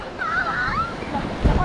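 Rushing water of the Trishuli River during a rafting trip, a broad churning wash with wind noise on the microphone and a person's raised voice over it.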